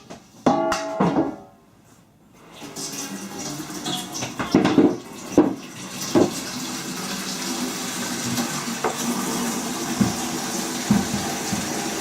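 Water running from a tap into a fermentation tub filling with brewing mash water, a steady rushing pour broken by a few clunks and handling knocks at the start.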